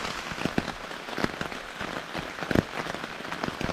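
Rain falling on a Fjallraven Wind Sack emergency shelter, a steady patter of drops with scattered louder taps striking the fabric close overhead.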